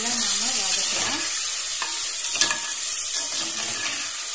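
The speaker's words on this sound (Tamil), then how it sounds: "தக்காளி நல்லா குழைய வதங்கட்டும்" Tomatoes sautéing in a pan for an oyster mushroom curry, a loud continuous bright sizzle with a few faint stirring scrapes, close, and no talking.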